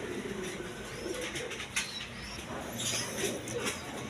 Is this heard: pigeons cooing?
yes